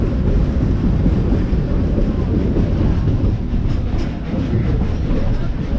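Dollywood Express Engine 192, a steam locomotive, rolling steadily up a mountain line with a loud continuous low rumble and rattle of cars, heard close with wind buffeting the microphone.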